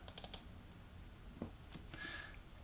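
Faint, quiet clicks on a computer, a quick cluster of three or four near the start and a couple of isolated ones later, with a short electronic tone near the end.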